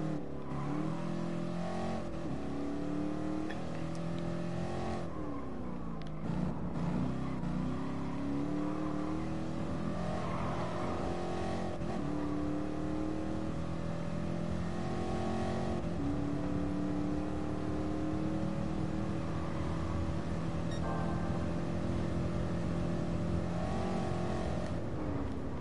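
Corvette race car engine screaming through gear changes on the Nürburgring Nordschleife in a racing game, loud and continuous with rising and falling revs across the whole stretch, no voices.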